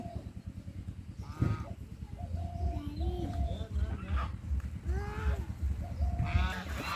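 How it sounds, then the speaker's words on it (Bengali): Several domestic geese honk loudly and repeatedly while fighting nearby, their harsh calls overlapping above a low background rumble. "আম্মা দেখো রাজহাঁসের লড়াই"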